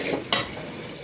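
A spoon scrapes and stirs biryani masala with spices in a pan, with one sharper clink of utensil on metal near the start over a low background hiss. It is close and brief.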